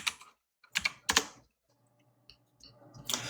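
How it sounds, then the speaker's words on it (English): Computer keyboard typing in a few quick clusters of clicks, separated by a quiet pause, close and fairly soft with no voices. "I'm pretty sure he's typing back the president and CEO."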